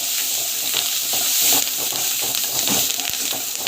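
Mustard seeds, cumin, curry leaves and onion sauté in hot oil, giving a loud, dense, continuous sizzling hiss with faint stirring texture and no talk.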